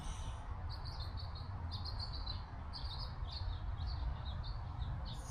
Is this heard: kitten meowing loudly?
no